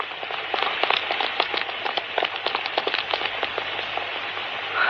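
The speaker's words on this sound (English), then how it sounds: "Oh, Lord, it's pouring again." Heavy rain pours steadily and loudly as a dense, constant hiss with many close spattering drops, alone and with no voices.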